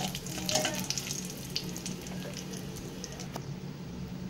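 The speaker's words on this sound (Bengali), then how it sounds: "ফোড়নে আমি তেজপাতা আর শুকনো লঙ্কাটা দিয়ে দেব।" Bay leaves and dried red chillies sizzle in hot oil in a pan, a soft, steady crackling hiss with scattered small pops, fairly quiet throughout.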